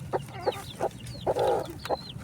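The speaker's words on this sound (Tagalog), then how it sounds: "Lumabas na yung sisiw niya oh." Silkie hen and a newly hatched chick in a backyard brood, with several soft clucks and short high peeps in uneven bursts, close by over a low background hum; no talking.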